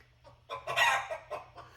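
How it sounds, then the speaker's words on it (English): Chickens cluck and squawk in short, uneven bursts from a little distance, with no one speaking. "these are some chickens chickening in the background doing their chicken thing"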